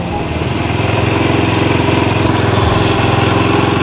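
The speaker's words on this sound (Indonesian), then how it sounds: "Kita kencangkan sedikit dulu stasionernya agar tidak mati nanti di saat kita setel." A motorcycle engine idles steadily with a carburetor idle set slightly high during adjustment while flood problems are serviced, giving a loud, close, continuous putter with an even rapid pulse.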